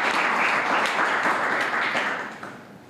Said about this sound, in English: let's give a round of applause for growing our movement